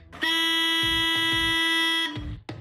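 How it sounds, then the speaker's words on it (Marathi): A vehicle horn on a busy street gives one long, loud, steady honk of about two seconds, followed by a brief shorter toot. "अरे हॉर्न दे ना त्याला।"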